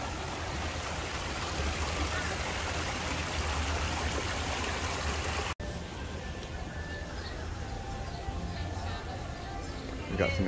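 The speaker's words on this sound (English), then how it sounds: "This peaceful little bridge here, a waterfall." Waterfall beside a small bridge at Epcot's China pavilion, a steady broadband rush of falling water that holds evenly throughout with a brief break midway, with faint background sounds of a theme park at night.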